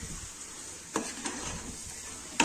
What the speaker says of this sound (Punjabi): ਆਲੂ ਗੋਭੀ ਨੂੰ ਆਪਾਂ ਚੰਗੀ ਤਰ੍ਹਾਂ ਹਿਲਾਵਾਂਗੇ